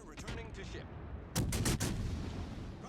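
Naval gunfire from World of Warships: Legends, with a heavy cruiser firing broadside salvos: faint rumbling cannon fire builds, then a loud cluster of sharp blasts lands at once, followed by a rolling low boom that fades away.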